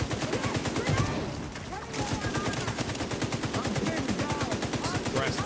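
Sustained rapid automatic gunfire in The Division 2 video game, a dense continuous rattle of evenly spaced shots running the whole way through, close and loud, with brief voices mixed underneath.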